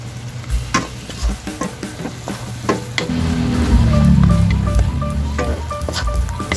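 Sardines being sautéed in a pan for a Filipino ginisang upo dish, stirred with a scraping clatter, then a louder, steady sizzle swelling up as the fish hits the hot oil, with no talking.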